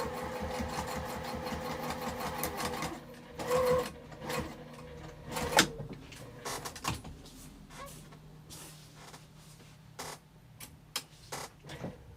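Sewing machine stitching seams on a fabric zipper pouch, its motor whirring in uneven runs with clicks and pauses, close but fairly quiet, no voices.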